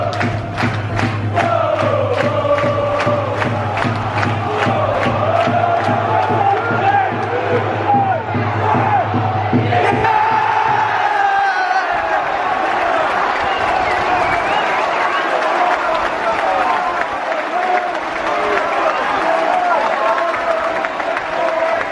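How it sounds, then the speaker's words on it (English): A football crowd at a Peterborough United match roars and claps in rhythmic unison, chanting hand claps giving way to a sustained loud cheer and applause from the stands. "Crowd are behind him."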